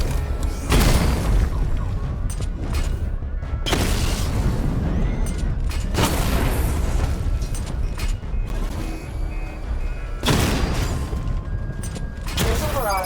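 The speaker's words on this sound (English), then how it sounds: "Destroy targets to charge up weapon energy and activate missile barrage" Missile barrage explosions in the Batman: Arkham Knight video game, a series of loud deep booming blasts arriving roughly every two to four seconds over a continuous rumbling battle bed, with no talk.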